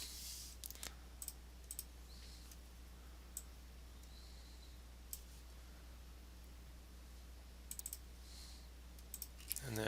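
Computer mouse clicking at a desk, a few sharp, isolated clicks spread out over a quiet electrical hum, with a quick cluster of clicks near the end.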